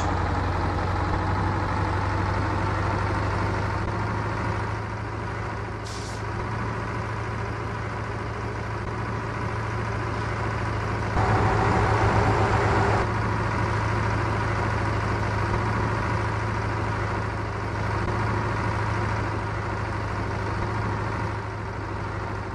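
MAZ-504 truck engine idling in Euro Truck Simulator 2. It gives a steady, low, rumbling drone that holds evenly throughout, with a brief, slightly louder surge partway through and no talking.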